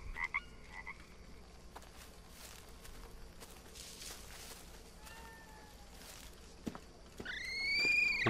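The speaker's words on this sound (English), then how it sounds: "Oh, poison dart frog." A poison dart frog in the jungle survival game Green Hell gives repeated croaking calls amid ambient rainforest sounds, faint rising chirps, then louder bird-like trills near the end, with no talking.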